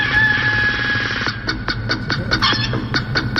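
Remixed chicken sound alert playing on a livestream: a sustained tonal opening, then a rhythmic series of sharp, clucking hits at a steady beat, loud and close.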